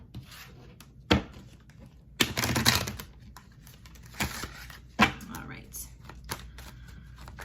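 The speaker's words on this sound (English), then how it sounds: "So I'm going to shuffle one more time." Tarot cards are shuffled in several bursts: brisk riffling and sliding rasps, with taps and pauses between, close by.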